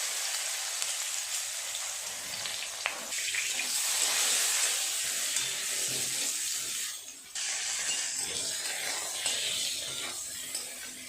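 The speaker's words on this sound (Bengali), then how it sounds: "এই তেলে বেগুন আলুটা আগে ভেজে নেব ভালো করে।" Eggplant and potato pieces frying in hot oil in a pan, a steady hissing sizzle with crackly texture that swells and briefly dips midway, fairly even and close.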